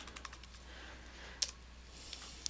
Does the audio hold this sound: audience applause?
no